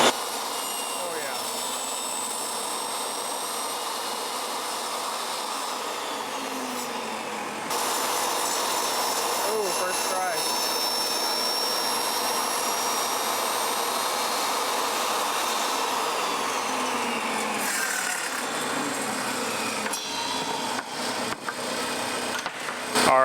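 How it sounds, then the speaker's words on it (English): A table saw milling wood window trim, a window stool with jamb cutouts and 45-degree returns, for a barndominium; a steady loud whine runs throughout, rising in intensity partway through as the blade takes the cut. "Now I gotta wait for this guy to use the table saw."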